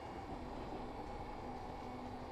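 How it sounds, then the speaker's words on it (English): Steady rumbling of a Glasgow Subway train in Train Simulator Classic as another train passes, a continuous low rail roar with a faint tonal hum, no voices. "And we're passing another train."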